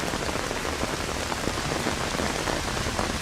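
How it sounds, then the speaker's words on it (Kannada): Heavy rain pours steadily in a village in Shahapur taluk, Yadgir, where a road lies flooded, making a dense, loud, even hiss of drops striking the ground without a break. "ಯಾದಗಿರಿಯ ಶಹಾಪುರ ತಾಲೂಕಿನಲ್ಲಿ ಭಾರೀ ಮಳೆಯಾಗಿದ್ದು"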